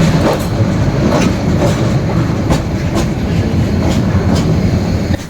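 A train rolls along the rails in Bangladesh, on an open-sided carriage with no window bars, with a loud rumble and repeated clickety-clack of wheels over track joints, close and continuous.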